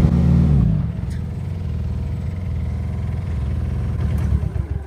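A Rhinoceros mini excavator's two-cylinder engine runs steadily nearby, a low chugging rumble with a faint rhythmic clatter, louder at first then settling into an even idle.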